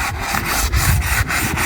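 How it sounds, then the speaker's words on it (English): A sander rasps steadily over wood on a small shed, the scratchy sound pulsing in regular strokes, loud and close, with no voices. "Jump on this sander so we can get a little bit more work done."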